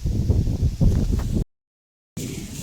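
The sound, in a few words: strong wind in an open field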